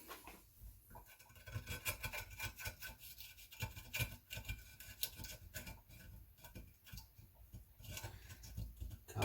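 A putty knife scrapes and rubs at a brake backing plate gasket stuck to a transfer case, a run of close, quiet rasping strokes in uneven rhythm.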